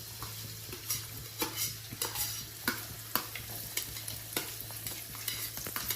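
Garlic sizzles in hot oil in a steady, close hiss, with frequent light scrapes and taps of a stirring spoon against the pan.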